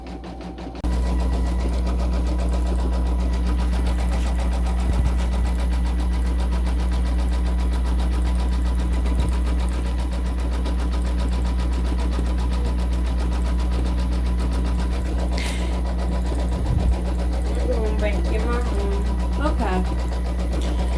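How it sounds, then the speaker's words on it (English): An embroidery machine running a satin stitch on a hooded towel hums steadily and loudly throughout with a rapid needle rhythm, close by, while a person talks over it. "We are still stitching away on that satin stitch, which is stitch number 6 of 7."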